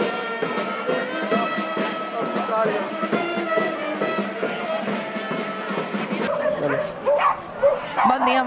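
A dog barking in a church square during the Sant Antoni Tres Tombs festival, repeated yapping barks and whines over crowd chatter and nearby voices, fairly loud throughout.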